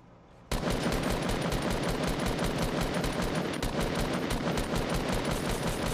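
Sustained automatic gunfire in a video game erupts suddenly after a brief quiet moment and continues as a loud, rapid, evenly spaced stream of shots to the end.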